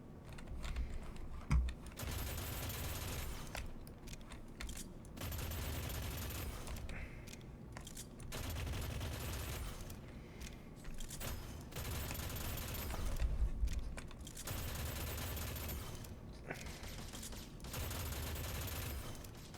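Rapid gunfire from the shooter game Deadzone Rogue, fairly quiet, rattling in long sustained automatic bursts separated by brief gaps, with a steady, dense texture throughout.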